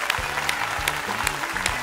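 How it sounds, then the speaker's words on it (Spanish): A studio audience applauds at a televised singing competition's blind auditions, with brief steady clapping under a sustained musical bed of low tones. "Aplauso para los padres."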